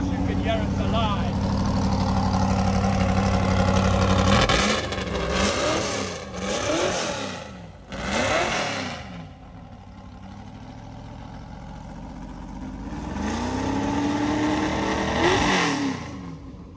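A vintage race car engine idles with a low rumble, then revs up and down several times, loud and close, with voices talking over it at a car concours.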